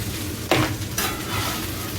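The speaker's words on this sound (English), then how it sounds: "now I'm going to go ahead and add all the beef right into the pot" Shredded beef for fajitas drops into a hot skillet with a sudden loud burst of sizzle, then settles into a steady, close frying hiss as the meat is worked in.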